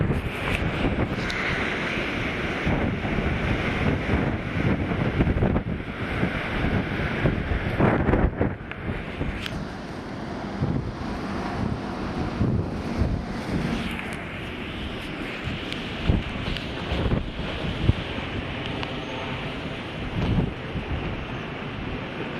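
Strong wind gusts roar steadily across an open, exposed spot on the Otago Rail Trail in New Zealand near Wedderburn, buffeting the microphone with a dense, rumbling rush that stays loud throughout.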